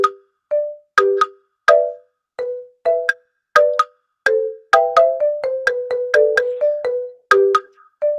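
A bright electronic melody built from monitor beep pitches repeats in a loop, clean tones at several pitches forming a quick, regular tune with no other sounds.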